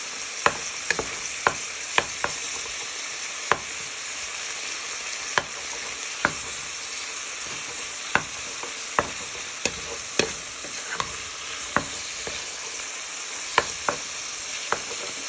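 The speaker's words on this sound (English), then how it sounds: "Then you add in your garlic, onion and ginger for perfectly just frying our beef" Beef with garlic, onion and ginger sizzles steadily in a hot pan while a utensil scrapes and taps against it every second or so, close and clear.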